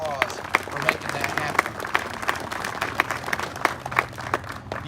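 An indoor crowd applauds a tribal council at a Choctaw Nation event, a sustained, fairly distant patter of many hands clapping with sharper individual claps.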